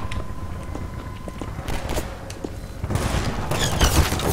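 An accurate gun fires in the Half-Life 2: Episode Two single-player mod Cremation, starting as scattered single shots and building into denser, louder bursts of gunfire with footsteps and mechanical clatter.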